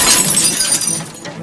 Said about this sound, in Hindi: गोली सीधे पैब्लो की छाती में लगी और वो झटका खाकर पीछे मौजूद कांच के शेल्फ से जा टकराया।